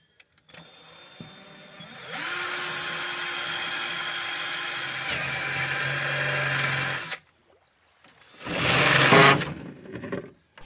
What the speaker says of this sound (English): So the mission was to drill draining holes for the bow compartments.